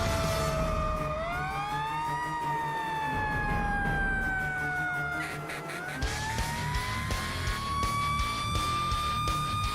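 Fire truck and ambulance sirens arriving at an emergency site, wailing tones rising and falling and overlapping, with a yelping siren joining near the end over engine rumble; fairly distant and moderate.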